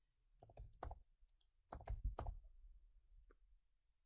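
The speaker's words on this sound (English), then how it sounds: "Now type in a password for this user." A password being typed on a computer keyboard: a few quick clusters of close, crisp key clicks separated by short pauses, fairly quiet and with no talking.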